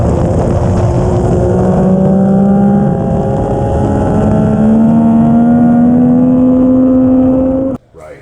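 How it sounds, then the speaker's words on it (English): A Yamaha MT-09 motorcycle accelerating hard on a race track, its engine note climbing steadily through the revs, loud and close, with wind rush, before cutting off abruptly near the end. "we're getting the Yamaha pointed a little bit earlier and accelerating a little bit earlier than we"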